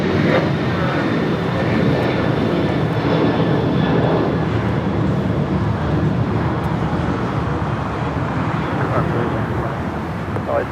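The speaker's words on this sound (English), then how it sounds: "this is flight 603 coming in from Amsterdam, the second KLM Dreamliner, 787-10 Dreamliner" A KLM Boeing 787-10 Dreamliner landing at LAX on flight 603 from Amsterdam, a steady loud jet roar with wind buffeting that holds level throughout without letting up.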